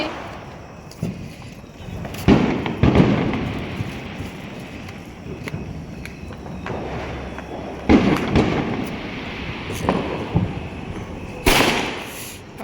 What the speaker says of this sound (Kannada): ಈಗ ಪಟಾಕಿ ಹೊಡಿಯೋಣ ಅಂತ ಬಂದ್ವಿ ಆಚೆ